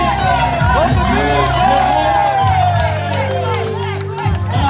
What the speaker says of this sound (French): On applaudit là pour tous les candidats